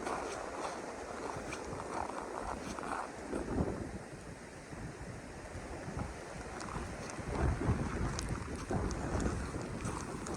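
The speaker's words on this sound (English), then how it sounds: "it's always a friggin' wind tunnel through there between the two ponds" Strong wind gusting through a wind tunnel between two ponds in winter snow, a steady roaring rush that buffets the microphone, with surges around the fourth and eighth seconds and no talk.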